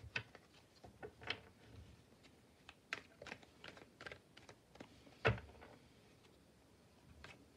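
Oracle cards being shuffled for a tarot-style reading, giving a run of soft, quick papery flicks and taps with one sharper slap near the end, close and quiet with no talking.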